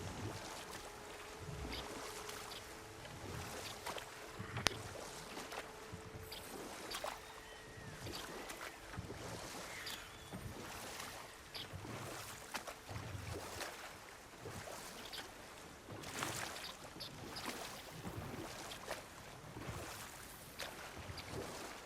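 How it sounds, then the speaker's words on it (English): A waterfall rushes in the God of War video game: a steady broad roar of falling water fills the scene, with faint wind and scattered in-game clatter over it, no voices. "Waterfalls. We're close."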